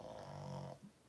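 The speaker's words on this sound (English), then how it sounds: "That's my dog snoring" A dog snores close by with a single drawn-out rasping breath followed by a softer snort, heard alone without talk.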